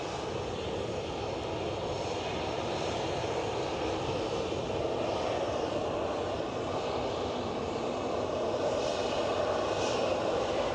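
A Boeing 737 Max 8 airliner arriving at Edinburgh airport makes a steady, sustained engine roar that swells slightly near the end, heard from a distance with no voices.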